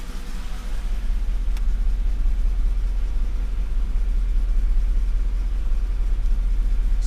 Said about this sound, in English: So it idles right about here, and when it warms up just a little bit more it's gonna drop